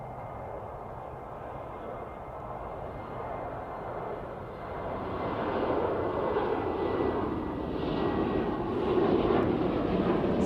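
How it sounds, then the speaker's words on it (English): A Ryanair airliner takes off at Manchester Airport, its jet engine roar heard from a distance and swelling gradually louder over about ten seconds with no talking. "Ryanair just about to take off."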